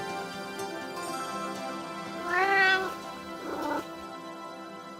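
Domestic cat meowing close by, one drawn-out rising and falling meow followed by a shorter second call, heard over a faint steady background hum.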